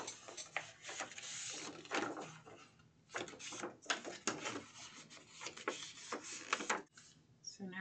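A tool drawn along board to score it for a notebook binder, with repeated short scraping strokes and rubs, close and fairly quiet, with a voice speaking intermittently over them.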